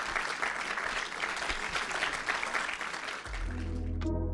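An audience at a Lausanne book prize event claps warmly for an author, a dense steady applause that gives way to a musical outro at the end.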